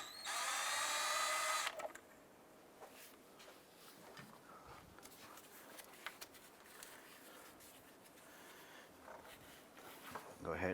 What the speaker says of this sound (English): also going to loosen the inboard radiator hose clamp